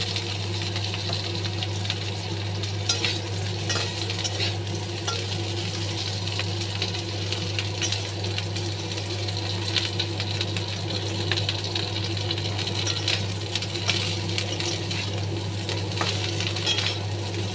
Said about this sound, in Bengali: আমার ফুলকপিটাও এদিকে ভাজা হয়ে গেছে